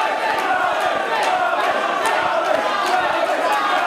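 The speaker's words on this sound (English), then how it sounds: "definitely the chants of Spud totally outweighing that" Wrestling crowd at an XWA 2012 match between Rockstar Spud and Kris Travis, a dense, steady roar of many voices with rhythmic shouted chanting sustained throughout.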